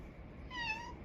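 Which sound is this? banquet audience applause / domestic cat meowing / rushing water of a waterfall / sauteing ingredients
domestic cat meowing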